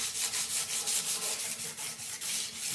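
Scrubbing bad rust off a sword blade: a loud, steady rhythmic rasp of repeated strokes, roughly four per second, close up with no talk.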